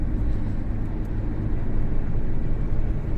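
Steady low rumble of a car cabin while driving after dark, a constant engine and road drone filling the interior with no talking.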